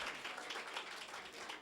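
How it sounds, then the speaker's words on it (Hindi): A church congregation claps together in thanks during a sermon, producing a steady, dense wash of applause that holds evenly from start to finish. "आइए शुक्रगुजारी करते हुए एक बार भरपूर तरीके से यीशु मसीह के लिए तालियां बजा दें"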